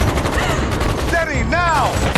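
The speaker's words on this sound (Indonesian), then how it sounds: "berhasil ditembak oleh Chris tepat di babangusnya" Gunfire in an action film shootout: dense, continuous loud shots and noise with a rising whistle-like tone midway, all close and busy with no voices.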